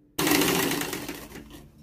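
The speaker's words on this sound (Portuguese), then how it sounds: "Agora eu vou passar uma costura em todo ela só para fechar esta minha faixa." A sewing machine runs a continuous seam along a folded fabric strip for a dish towel border, a steady close whirring burst that starts abruptly and slowly tapers off.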